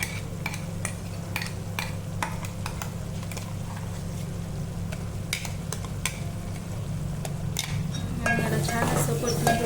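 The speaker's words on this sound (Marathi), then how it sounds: "आणि मसाले टाकले म्हणजे भाजू देऊ तेलामध्ये परतून घेऊ" Masala spices sizzle and fry in hot oil for a Kolhapur-style egg curry, with steady crackling and repeated scraping stirs against the pan, growing a little louder near the end.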